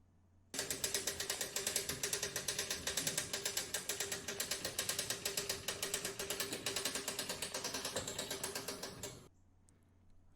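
A pottery slab roller's hand wheel is cranked steadily to roll clay, giving a fast, even ratcheting clatter of gears that runs continuously for several seconds and then stops, with no talking.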